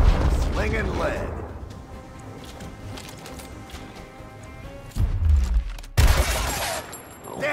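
Video game gunfire cracks out in short, sharp volleys, loudest at the start and again near the end, with quieter clattering and a talking voice in between.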